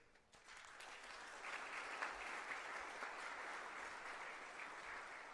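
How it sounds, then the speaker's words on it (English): Audience at a two-day HR conference in Bhopal breaks into sustained applause, many hands clapping steadily at moderate level throughout, with a slight swell after the first moment. "We also welcome you with a thunderous applause."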